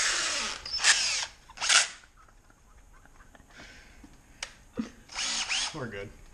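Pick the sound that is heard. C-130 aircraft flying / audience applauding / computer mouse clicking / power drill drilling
power drill drilling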